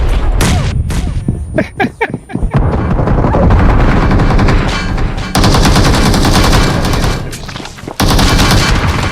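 Loud, dense bursts of automatic gunfire from the PUBG Mobile shooter game, rapid shots running almost without pause, with short gaps between volleys and some heavier thumps mixed in.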